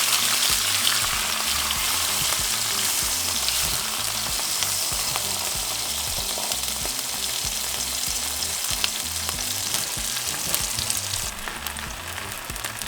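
Birria tacos frying in hot oil, a steady dense sizzle and crackle that holds for the whole stretch, close and fairly loud with no voices.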